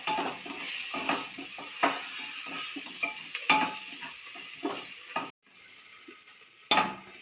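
A spoon scrapes and stirs coriander and turmeric powder frying over low heat in a pan for beef curry, giving repeated rhythmic scraping strokes with light sizzling, then a short pause before another stroke.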